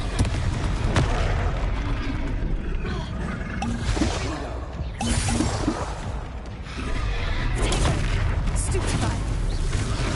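Blasting-spell explosions from the video game Hogwarts Legacy, booming bursts and combat noise running dense and loud throughout without a break.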